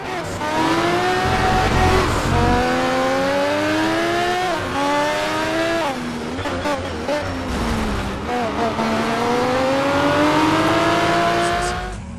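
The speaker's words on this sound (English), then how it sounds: "The engine roars, the brakes doing their thing, and the rubber on the tires holding on for dear life." Racing car engine from the Need for Speed Shift 2 Unleashed video game roars and revs continuously, pitch climbing and dropping through gear changes, with tires squealing, loud and close throughout.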